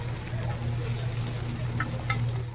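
Fish oil and fish roe fry in a pan, a steady close sizzle with a few sharp crackles and pops near the end, no voices.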